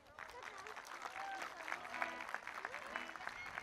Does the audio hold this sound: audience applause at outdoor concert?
yes